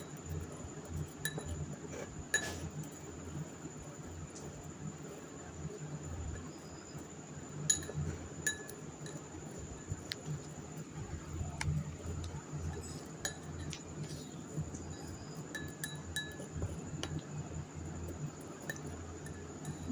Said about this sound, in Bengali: আমি একটা চামচ দিয়ে মিশিয়ে নিচ্ছি পুরোটা